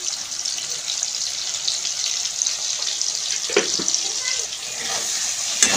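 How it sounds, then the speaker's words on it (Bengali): Potatoes fry in a pan with a simple spice paste, salt and turmeric, giving a continuous, fairly loud hissing sizzle that holds steady throughout. "একদম সিম্পল বাটনা দিয়ে আলুটা আমি ভেজে নেব"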